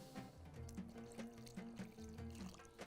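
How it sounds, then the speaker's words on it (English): Water poured into a pot of Bahraini meat stew (salona), a faint, close trickling with small rhythmic splashes over a few seconds, no talking. "Now I'm going to add a little bit more of water"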